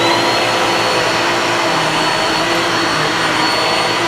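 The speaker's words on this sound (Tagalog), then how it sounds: "yung mga aso ko kasi, sensitive sila sa tunog ng vacuum" A handheld UV vacuum cleaner runs steadily in a bedroom, a loud, close, unbroken motor whine with airy rushing noise and no pauses or voices.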